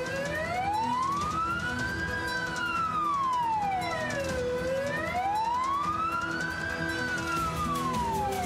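An ambulance siren wails loud and close for over eight seconds, rising and falling in slow sweeping cycles over steady traffic noise.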